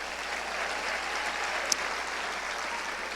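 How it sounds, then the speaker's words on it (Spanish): A church congregation gives a sustained round of applause, dense and even for three seconds, with one sharp clap-like click standing out midway. "Un aplauso al Eterno."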